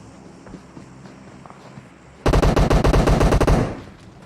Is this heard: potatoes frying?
no